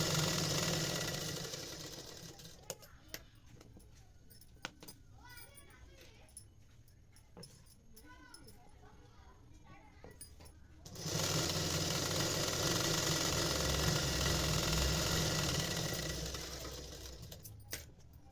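A sewing machine stitches petticoat pieces together at a tailoring class, running in a steady whir that grows louder and denser in the second half, with talk in the first part.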